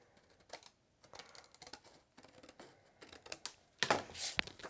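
Scissors cut a rectangle out of paper with quiet, close snips and crisp paper rustles in an irregular rhythm, ending in a louder rustle.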